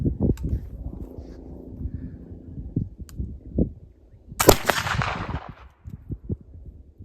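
A black powder gun loaded with hemp black powder fires a single sharp, loud report midway, with quieter handling clicks and faint outdoor background around it.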